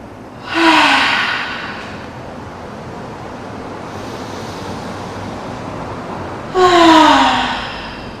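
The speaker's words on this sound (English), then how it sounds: "take big inhales through the nose and to let it all out with the mouth" A person takes two deep breaths during a yoga session, each a loud breathy exhale with a slight voiced sigh, the two spaced several seconds apart over quiet background.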